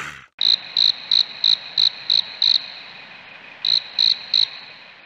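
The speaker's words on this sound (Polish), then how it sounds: "Świerszcze?" Crickets chirping in the Scooby Doo video game, steady bright pulses in a regular series of about seven, a short pause, then three more, loud and close with no talking.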